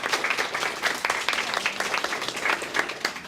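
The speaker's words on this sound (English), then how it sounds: "Can we give a round of applause for our panelists and everyone?" An audience applauds panelists at the close of a digital marketing talk for creatives: a dense, steady wash of many hands clapping, fairly close and sustained throughout, with no talk over it.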